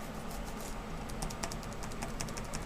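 Fingers type on a cheap-feeling Toshiba laptop keyboard, a close, fast, uneven patter of light key clicks running steadily throughout with no voices.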